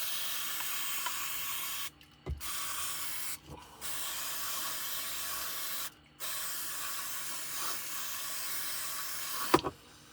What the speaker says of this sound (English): a bit more electrical contact cleaner